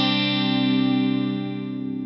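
A clean electric guitar chord rings out through a Hughes & Kettner StompMan with chorus, sustaining and slowly decaying with a gentle wobbling shimmer, alone with no talk.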